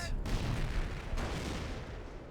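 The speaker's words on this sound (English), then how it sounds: "we've got some offshore artillery being brought in there" In the Company of Heroes strategy game, offshore artillery fire lands as deep, rumbling booms with a sharp crack at the start and another impact about a second later, moderately loud over a low battle background.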